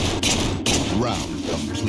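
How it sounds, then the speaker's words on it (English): Magnum pistol fire in the Halo video game: two sharp, punchy thudding shots close together near the start, followed by a dense game soundscape with talk mixed in. "Is it Halo 4 that has the Magnum sound like this?"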